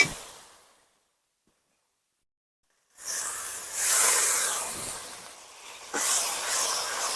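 Water poured onto cooked-down spice paste for a Bengali bhola fish oil curry, bursting into loud hissing after a silent gap, swelling, easing, then flaring again.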